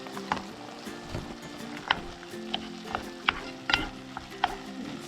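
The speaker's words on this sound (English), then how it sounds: "And stir it all up." Fried rice with carrots, corn, chickpeas, soy sauce and packet rice being stirred in a pan at a campsite: a soft continuous sizzle broken by a series of scraping, clacking stirs at an uneven rhythm.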